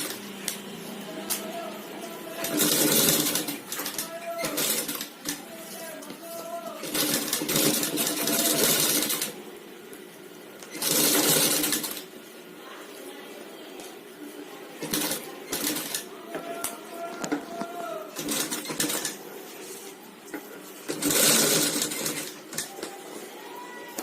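A sewing machine stitches a blouse design in repeated bursts of rapid mechanical whirring, with short pauses between runs. It sounds close and moderately loud, and no voices come through.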